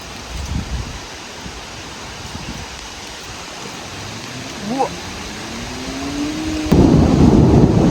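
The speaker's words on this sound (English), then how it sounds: "I hate storms like this." A thunderstorm brings rumbling thunder and a steady hiss of rain. A louder surge of rain or thunder swells near the end, and a person speaks briefly partway through.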